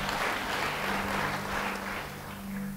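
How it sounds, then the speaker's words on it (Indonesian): A church congregation applauds during a sermon, a broad wash of clapping over a steady low hum, with no speech. "Beri tepuk tangan bagi dia."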